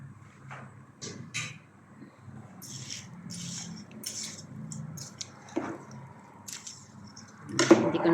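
Dry pasta tipped into a pot of sopas soup on the stove, with scattered soft clatters, squishy splashes and metallic pot sounds. The noises come in irregular bursts over a low background hum, and one louder clunk lands near the end.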